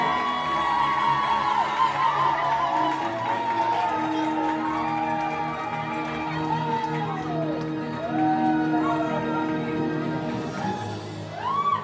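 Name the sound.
wedding guests applauding and cheering for the couple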